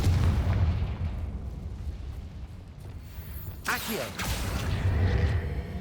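A Confringo blasting spell goes off in Hogwarts Legacy with a whooshing burst and a heavy boom, rising out of a dense rumbling game soundscape partway through, while a voice speaks around it.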